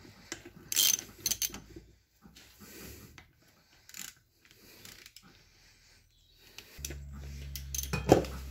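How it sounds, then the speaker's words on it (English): Ratchet wrench working on the three 10mm bolts that hold an appliance compressor in place, giving short bursts of metallic clicking and clanks that come and go, fairly close, with quiet gaps between. "So just going to take out the 3 10mm bolts holding the compressor in."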